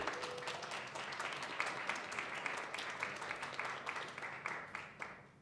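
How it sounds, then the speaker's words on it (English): An audience at a public health symposium applauds softly, a moderate crowd of claps heard from some distance that rises briefly and then tapers off near the end. "I just wanted to give them a good round of applause"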